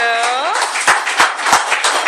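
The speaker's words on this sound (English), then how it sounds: "let's give one more round of applause to our speakers" Audience applause for the speakers after a bullying discussion panel, a short burst of several distinct claps following a sustained voiced tone, fairly loud and close.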